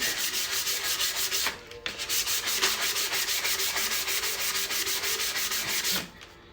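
A tumbler cup is sanded by hand to strip its shiny coating, a fast rhythmic scratchy rubbing of strokes at close range, briefly pausing twice before carrying on.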